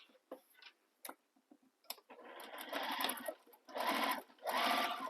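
Sewing machine stitching the side seam of a crossbody bag, a few slow ticking hand-turned stitches and then fast whirring runs of stitching in bursts, close and clear.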